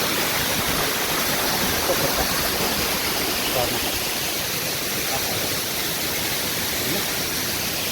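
A waterfall in Kerala roars as a dense, steady wash of falling water, loud and unbroken throughout with no other distinct sounds.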